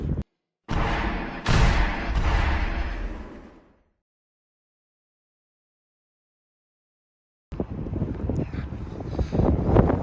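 Strong wind on a hilltop near Royton, Oldham, buffets the microphone in loud roaring gusts, cutting to silence for several seconds before the gusting returns.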